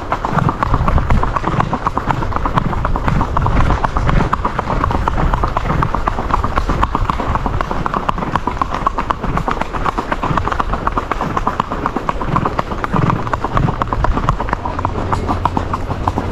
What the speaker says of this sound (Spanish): Estamos llegando ya a la cueva del burro y a caballo hoy.